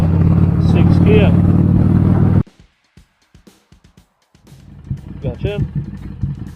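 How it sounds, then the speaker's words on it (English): A motorcycle engine runs loud and steady with a deep rumble for about two seconds while the rider shifts gears, then cuts off into a few scattered clicks before a voice speaks. "release clutch while rolling on the throttle, fifth gear, clutch in, roll off the throttle"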